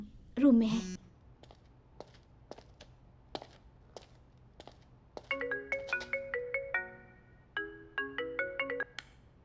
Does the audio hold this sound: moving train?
no